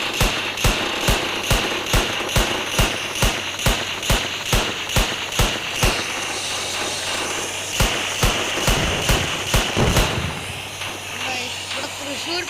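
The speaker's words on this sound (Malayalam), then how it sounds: "ഞാനിപ്പോൾ ഇവിടെ ഉപയോഗിക്കുന്നത് പിസ്റ്റളാണ്. എന്നിട്ട് ഇതുമലോട്ട് ഇങ്ങനെ വെടി വെച്ചിട്ടുണ്ട്." Pistol shots fired at a gas can in a 3D Indian bike riding video game come as sharp, evenly spaced cracks in a rapid run. A short pause follows, then another quick burst. A steady hiss continues underneath.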